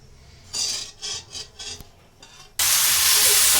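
Tadka being made in a home kitchen pan for chole, with a few short scraping, sizzling bursts followed by a sudden loud, steady hiss as the tempering hits the hot oil.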